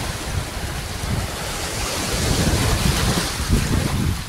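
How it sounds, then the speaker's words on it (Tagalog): Sea waves at high tide washing in among seaside houses, a continuous rushing surf roar mixed with wind buffeting the microphone, swelling slightly louder toward the end. "nagkakataon pa na high tide. So pasok po yan sa mga kabahayan dito hanggang doon po sa unahan."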